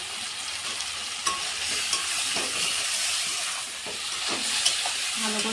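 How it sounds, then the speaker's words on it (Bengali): Coriander paste being stir-fried with soybean curry in a vegetarian dish, a steady bright sizzle with occasional scraping stirs and small spattering pops, fairly close and moderately loud. "অল্প একটু ধনে বাটা দিচ্ছি, ভালো করে কষে নেবো।"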